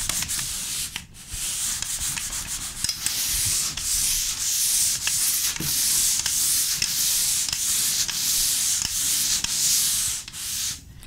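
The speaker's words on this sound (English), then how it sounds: "So the first step for today is just to sand it." Steady abrasive scraping of sanding over a dried skim coat of joint compound on a wall, continuous and close with rhythmic strokes and no talking.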